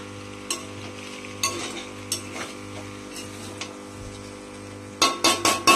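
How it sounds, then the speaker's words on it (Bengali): Vegetables frying in a pan are stirred with a utensil, giving a soft sizzle under a low hum, with scattered scrapes and clinks and then a quick burst of four sharp metallic knocks at the end. "ভালো করে নাড়াচাড়া করতে হবে।"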